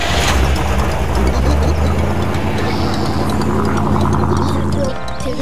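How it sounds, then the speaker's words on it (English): A car engine runs with a loud, steady low rumble close by, idling evenly for several seconds before dropping off near the end. Talk and other sounds mix in over it. "Okay, I'll just start the engine,"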